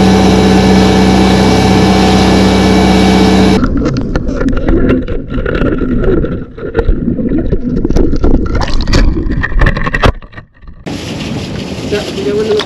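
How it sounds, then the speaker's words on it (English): Small fishing boat's outboard motor running as it motors back up during a family mackerel trip: a loud, steady engine drone at first, then broken wind buffeting and water noise, with the motor tone returning at the end. "I'm going to motor back up, so if you put your rod down."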